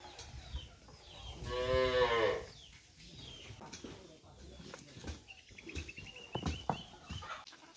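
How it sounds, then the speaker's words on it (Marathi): A calf on a Konkan farm lets out one loud, close moo early on, followed by quieter outdoor morning sounds, a few faint bird calls and scattered soft noises. "वासरं सोडलेत आम्ही फिरण्यासाठी."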